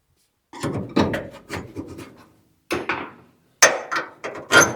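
A screwdriver pries at a part on a 1981 Ford F100 axle, giving a series of close, sharp metallic knocks and scrapes in short irregular bursts separated by brief pauses.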